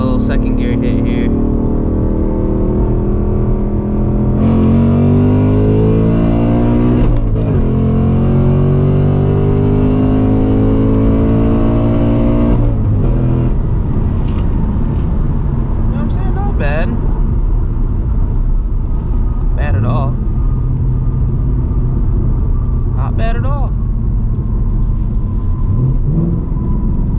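A 500 HP 2024 Ford Mustang GT's Coyote V8 pulls hard through second gear, a loud rising engine roar sweeping up for several seconds, then settling into a steady rumble broken by shorter revs.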